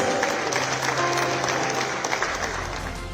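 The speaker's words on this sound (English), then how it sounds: "Let's give them a round of applause." An awards ceremony audience claps steadily and fairly loudly for the whole stretch, with faint voices in the crowd.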